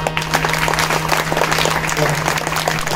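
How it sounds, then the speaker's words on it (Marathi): An audience at a kirtan claps loudly in a dense, continuous burst of applause, with a low steady hum underneath. "इथं बसलेल्या सर्वांनी जोरदार टाळी वाजवा."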